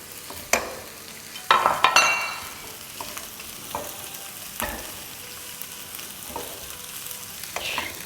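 Shredded cabbage and sliced red bell pepper are tossed in a pan for chicken chili with noodles: sharp scraping spatula strokes and clatters come in bursts over a faint, steady sizzle, with no talking.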